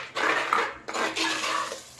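A spoon scrapes and clinks against a pan while fish curry masala is fried and stirred, a few quick close metallic strokes with short pauses between them.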